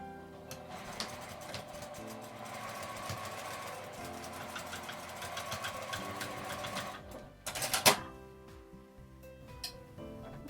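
Sewing machine stitching a tweed tote bag seam, a fast steady mechanical whirring and ticking, close and continuous, with a louder clattering burst near the end.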